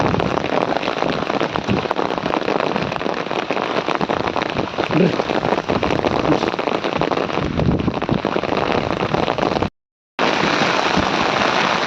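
Heavy rain pours down steadily in rural Odisha during a downpour, a dense, loud, continuous hiss and patter close by that fills the whole stretch, with a brief cut near the end.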